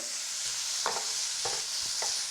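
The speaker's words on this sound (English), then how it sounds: "So now it's time for us to add the finely chopped tomatoes. Stir them in." Chopped tomatoes stirred into frying onions in a pan for a dhaba-style omelette curry, a constant soft sizzle with three or four brief scraping strokes of the spoon, close and quiet, no talking.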